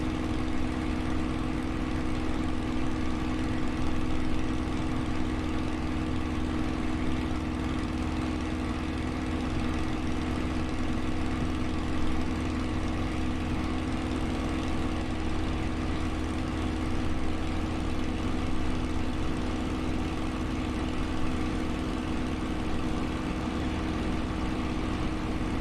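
Steady, loud engine drone of a Spitfire in flight, an unbroken propeller roar holding a constant pitch throughout with no talk.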